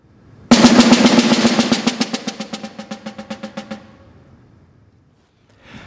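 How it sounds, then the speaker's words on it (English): Snare drum played as a steady stream of strokes starting loud and gradually dying away while the hitting spot moves toward the edge, the tone thinning as the volume drops before silence. "Now I've got a very clear dynamic range that's also being affected by the snare drum"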